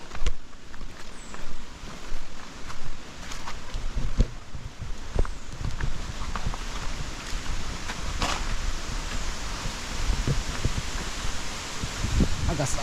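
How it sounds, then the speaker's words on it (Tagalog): Wind gusts and rustles through foliage outdoors in Calangay, Sta Maria, with scattered footfalls and crackles mixed in, fairly close, while people talk intermittently. "Agas-as ng hangin."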